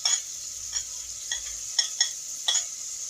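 Onions sizzle in hot oil, a steady thin hiss broken by a handful of short crackles and stirring clicks spaced about half a second apart, close and moderately loud with no talking.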